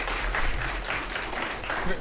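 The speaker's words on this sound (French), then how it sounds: "Voilà le robot qu'ils ont inventé. Vous pouvez, s'il vous plaît, les applaudir." Audience applause for students and the robot they invented, continuous crowd clapping heard throughout the short stretch, with a voice speaking over it.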